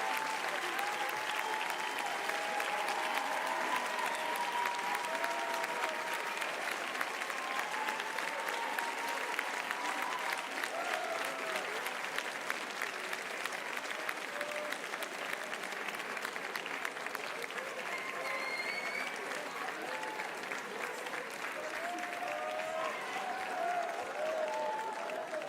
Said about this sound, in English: if you would like to give them a round of applause